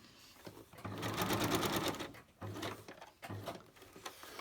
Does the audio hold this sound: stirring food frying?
no